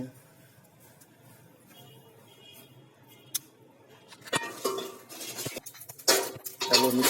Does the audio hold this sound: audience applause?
no